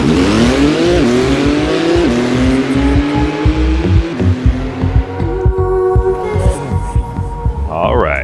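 A TECHART 992 Porsche Turbo S, an 800 hp road-legal car, roars loudly up through its gears at Monza in Assetto Corsa, the engine note climbing and dropping at each shift, with rapid pops and burbles as it eases off near the end.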